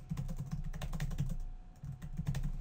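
Rapid typing and clicking on a computer keyboard, with close, crisp key taps in an uneven rhythm, a brief pause near the middle before the taps resume, and no talking over them.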